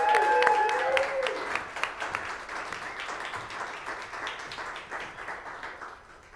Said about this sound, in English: So can we get a round of applause for Laura?